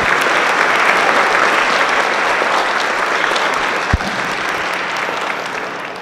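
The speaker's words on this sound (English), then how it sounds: "Can you give all of our administrators, Board of Education, a round of applause" Sustained audience applause fills a high school spring band concert hall, a steady dense clatter of many hands with one sharp louder clap near the end, fading slightly toward the close.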